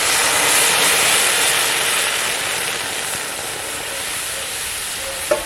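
Water poured onto roasted big and small moong dal in a hot pan, giving a broad steady hissing sizzle that slowly eases, with a brief clink near the end.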